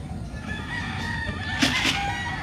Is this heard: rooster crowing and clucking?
yes